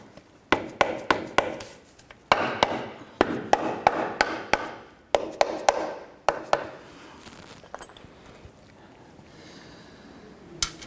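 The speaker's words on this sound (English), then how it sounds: "use our mallet here and just gently tap this up and in" A mallet tapping an engine oil pan into place on a 2008-2013 Honda Accord, sharp close knocks in short bursts of two to four with pauses between, then a faint rustle at the end.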